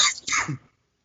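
A single short sneeze bursts out close and loud, sharp at the start, then cuts off into silence.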